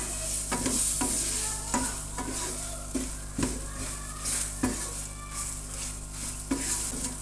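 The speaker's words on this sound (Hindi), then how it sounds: "मसाले को मिक्स करेंगे।" A spoon stirs coarsely ground spices into chillies frying in oil for a spicy yogurt chilli side dish, with repeated scraping strokes against the pan over a steady low sizzle.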